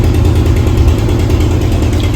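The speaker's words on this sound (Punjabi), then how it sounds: "ਲਾਈਟ ਵੀ ਚਲੀ ਗਈ ਜਨਰੇਟਰ ਚੱਲੀ ਜਾਂਦਾ" A generator runs during a power cut, giving a loud, steady low engine drone that holds even and unbroken with no voices.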